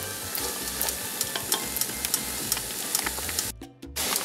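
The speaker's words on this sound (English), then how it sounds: "I am moving this around as it heats so that the garlic won't burn" Garlic, onions and peppers sizzling in a pan while being stirred, with a continuous frying hiss and regular light scraping taps that briefly drop out near the end.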